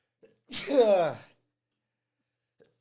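One loud sneeze up close, a sharp intake then an explosive burst fading over about a second, followed by quiet.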